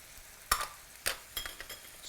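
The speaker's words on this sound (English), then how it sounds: "Stir that around." Browning lamb mince with spicy brown mustard gets stirred in a pan, a few sharp scraping strokes over a soft, steady sizzle, close and fairly quiet.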